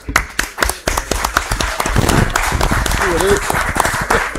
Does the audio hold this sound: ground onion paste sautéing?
no